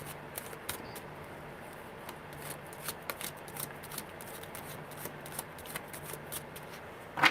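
Tarot cards are shuffled by hand with soft, quiet riffling and frequent small flicks and taps as cards slip and fall. It goes on steadily, close up, with no talking.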